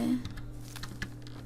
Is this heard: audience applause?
no